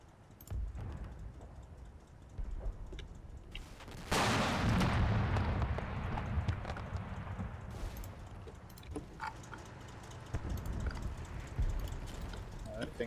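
Scattered pot shots at a StuG assault gun in the wargame Combat Mission, faint distant cracks and a heavier burst partway through, heard under quiet talk at low overall level.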